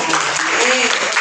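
A classroom of students bursts into brief, dense applause for a classmate during a school guidance session on sex education, with a voice talking over the clapping.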